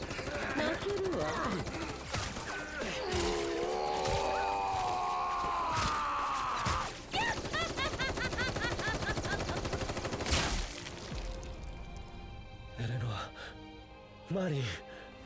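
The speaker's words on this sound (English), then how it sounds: "The zero recoil rifle" Rapid gunfire from the zero recoil rifle in FF7 Rebirth rattles through busy battle audio with music and effects, bursts spread across the stretch, and a voice briefly speaks over it.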